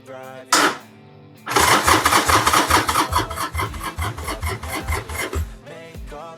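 A 1998 Sporty motorcycle engine cranks over on its first start attempt, the starter churning in a steady rhythmic chug for about four seconds without catching, preceded by a brief click and louder clunk.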